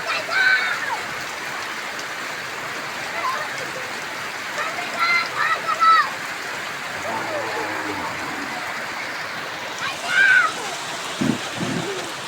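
Heavy unseasonal rain pours during a storm over a roadside shop area in Nepal, a constant, loud wash that holds through the whole stretch while faint voices and a few brief clatters rise over it.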